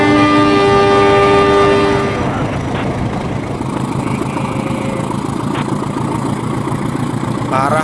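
A freight train in the Trainz Simulator game sounds a long horn blast at the start, then runs on with a steady loud rumble and rattle of wheels on track.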